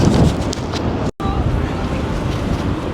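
Strong spring wind buffets a phone microphone on an outdoor walk around the Rutgers New Brunswick campus, a loud continuous roar with one brief dropout, while a voice talks over it.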